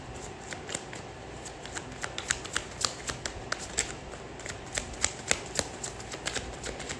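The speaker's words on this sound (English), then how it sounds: "Let me shuffle." Tarot cards are shuffled close up, with rapid, crisp riffling clicks in steady bursts and no voices.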